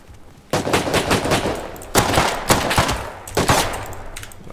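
Automatic gunfire in the survival video game Rust: three loud, close bursts of rapid shots, separated by short pauses and each trailing off into echoing decay.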